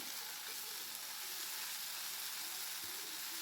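Tomato masala for a fish pickle sautés in a pan with a continuous, even sizzle and hiss, unbroken and fairly close, with no speech over it.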